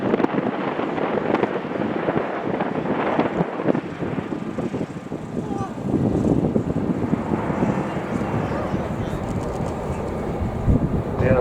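Airbus A400M military transport aircraft performing a flying display at an air show, a loud continuous propeller-engine roar with wind buffeting across the microphone, fairly steady throughout.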